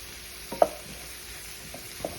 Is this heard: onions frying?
yes